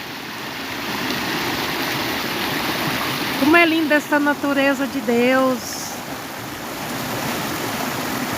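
Water spills over stones on a sunny farm, running toward creeks and rivers in a steady broadband rush. Someone speaks over the flowing water partway through.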